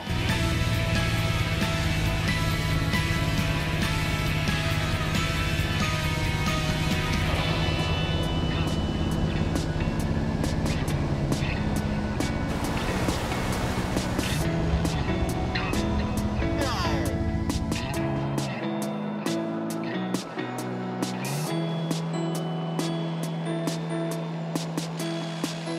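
A Harbour Air floatplane's engine drones loudly and steadily as it descends to land on Phantom Lake, the roar shifting in pitch and easing off toward the end.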